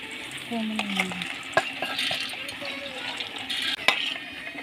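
Dal being stirred in a hot pan while frying for khichuri, with a steady sizzle broken by scraping and clinking of a spoon against the pot, close and fairly loud.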